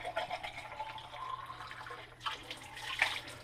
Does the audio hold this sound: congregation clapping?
no